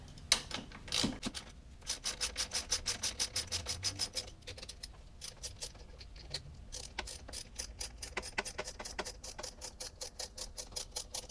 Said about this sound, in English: Now I can take my 14mm socket and I can begin tightening the caliper bolts back down.